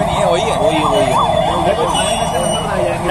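A wailing ambulance siren rises and falls repeatedly, loud and fairly close, over a rumble of traffic and surrounding noise at a road accident scene.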